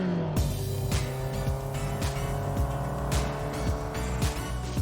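An old car without power steering cruises along at about 30, its engine humming steadily with a rhythmic cyclic pulse close to the microphone.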